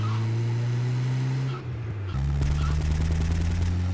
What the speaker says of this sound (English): I hear shooting already.